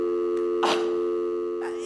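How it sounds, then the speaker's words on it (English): An answering machine tone sounds on a theatre stage in a performance of The Drowsy Chaperone, a steady electronic beep held over a sustained hum with a brief noisy burst partway through, fairly loud and close, with no talking. "Leave a short message after the tone and I will call you back at my convenience."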